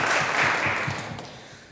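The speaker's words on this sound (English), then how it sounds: "If we get another round of applause for that." A brief burst of audience applause after a musical performance, a full wash of clapping that quickly tapers off within a couple of seconds.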